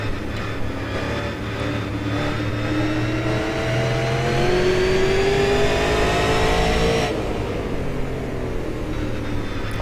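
From an onboard camera with driver Mark McFadden, a race car engine revs hard and climbs steadily through the gears, loud and close, before the pitch drops sharply off throttle near the end.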